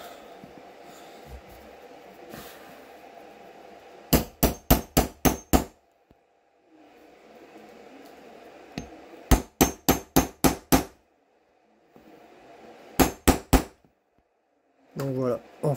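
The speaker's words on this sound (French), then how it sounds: "il n'y a plus qu'à mettre un petit coup de marteau dessus" A hammer taps a nut into place while tuning a Traxxas X-Maxx RC truck: three quick bursts of five or six sharp, close metallic strikes each, separated by quiet gaps with faint handling noise.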